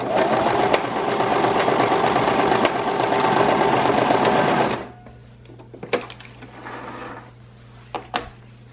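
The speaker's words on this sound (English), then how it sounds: "you're going to basically back stitch over this a bunch of times to make sure it's very, very secure" A sewing machine back-stitching elastic onto a cloth diaper runs in a steady, loud, fast needle chatter for several seconds, then stops, leaving a few soft clicks and fabric handling sounds.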